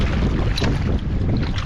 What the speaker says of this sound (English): Wind has definitely picked up a little bit on us out here.